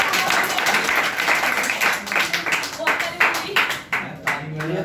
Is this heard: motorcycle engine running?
no